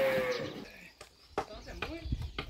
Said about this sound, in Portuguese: É a vaca do Tião